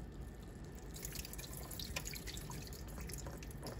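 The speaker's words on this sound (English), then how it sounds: "you just put the water" Water is poured into a cooking pot while making plov with chicken, a quiet continuous splashing trickle with small dripping accents over a few seconds, with no talking.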